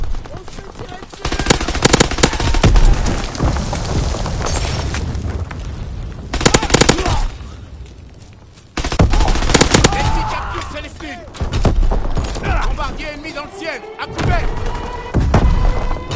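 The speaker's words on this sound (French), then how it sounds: "On se tire dessus." Bursts of machine-gun fire and single gunshots in a WW2 video game, loud and close, with rapid rattling volleys, sharp cracks and booming thuds broken by brief lulls, and voices faintly underneath.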